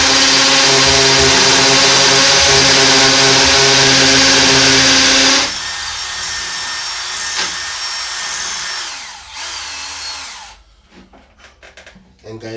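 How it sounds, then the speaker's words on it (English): A hammer drill set to hammer mode bores into a brick wall, whining loud and steady at first, then fading into lighter grinding and scraping bursts before stopping. "I have it on drill, on hammer, because it's a brick wall."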